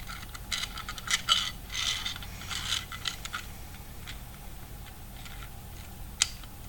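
3D-printed mixing cup mechanism being turned by hand, giving faint plastic clicks, ticks and scraping sounds in irregular bursts over a low background hum, with one sharper click near the end.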